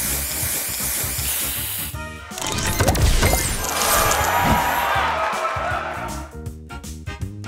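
Spray booster effect in the Match Masters puzzle game: a loud hissing spray burst with crashing, smashing tiles that lasts several seconds over game music, then fades out.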